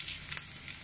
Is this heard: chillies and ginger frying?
yes